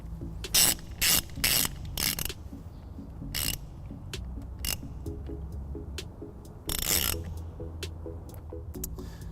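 A wrench ratchets a fitting tight during trailer wiring installation on a 2013 Dodge Grand Caravan, with several loud, close metallic ratcheting bursts spaced apart over a quiet mechanical hum.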